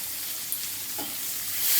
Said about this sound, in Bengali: আমি টমেটো কুচি দিয়ে দেব হলুদ দিয়ে দেবো একটু জিরে গুঁড়ো দিয়ে দিলাম